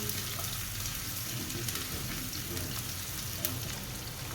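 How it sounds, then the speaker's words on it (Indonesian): Shallots sizzle and crackle steadily in hot oil in a pan, a dense, continuous frying hiss that stays fairly even throughout with small pops scattered on top. "Oke, sudah panas minyaknya, kita masukkan bawang merah."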